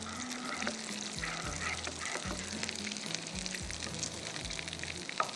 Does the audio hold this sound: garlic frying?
yes